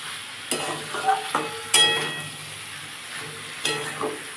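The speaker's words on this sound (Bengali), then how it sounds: "সব দিয়ে এটাকে আমি ভালো করে কষবো যতক্ষণ না মশলা গন্ধটা যায় বা তেল বেরোয়।" Spiced watermelon rind curry sautéing in oil in a pan, with a soft steady sizzle and several separate scraping stirs of a spoon at close range.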